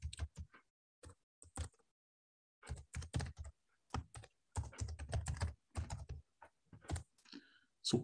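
An email address being typed into a chat on a computer keyboard, irregular clusters of close, crisp key clicks with short pauses between bursts, quiet and with no one talking.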